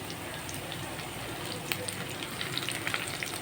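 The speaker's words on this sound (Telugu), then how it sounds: "అరకిలో దండకాయ ముక్కలకి ఒక మీడియం సైజ్ అనియన్ కొన్ని శనగపప్పు తాలింపులో వేసాను" Brinjal pieces, a medium onion and chana dal frying in hot oil for a tempering, a soft steady sizzle with small crackling pops building toward the end, quiet and close, with no talking.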